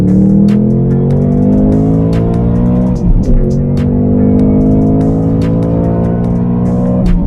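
A bone-stock 2023 Ford Mustang Mach 1 with its carbon trap fitted accelerates hard from 40 to 100 mph, its loud engine tone climbing steadily through the gears. A brief dip comes at a shift midway before the climb resumes.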